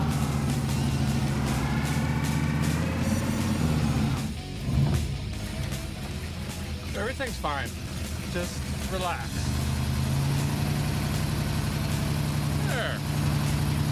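A Chevrolet Bel Air engine idles steadily after being restarted, a low continuous rumble running throughout while a person speaks briefly over it.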